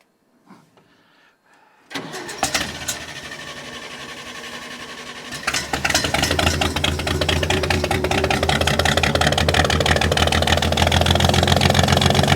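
A few quiet clicks, then a forklift engine cranks and catches, settling into a steady, loud mechanical idle with a rapid chattering rhythm close by.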